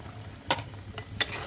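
A low, steady sizzle of frying in a pan, broken by two or three short scraping bursts of stirring; quiet and close.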